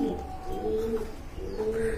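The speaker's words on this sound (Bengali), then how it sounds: "আর এইখানে দেখতে পাচ্ছেন এক জোড়া কাগজ কবুতর রয়েছে হোয়াইট কালারের ভিতর" A pair of large white Kagoj pigeons coos up close at a Bangladeshi pigeon market, with repeated soft, low throaty coos and faint chirps in the background.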